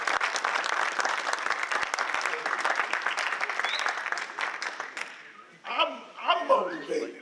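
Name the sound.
audience applauding the speaker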